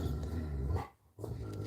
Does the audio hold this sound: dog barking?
yes